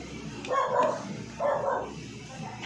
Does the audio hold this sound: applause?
no